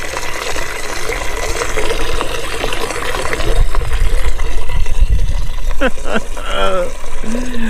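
Steady rushing water pours and trickles continuously from a Big Berkey gravity water filter at a campsite, with a voice speaking briefly near the end.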